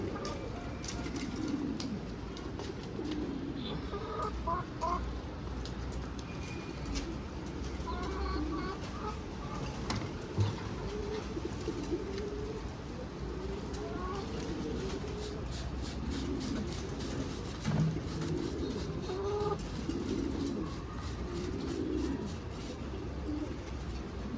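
Pigeons coo and rustle in a coop, including a white pigeon, with a steady low murmur of birds and occasional wing flutters and scuffs, a person speaking now and then.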